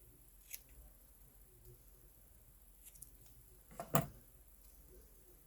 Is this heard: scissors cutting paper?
yes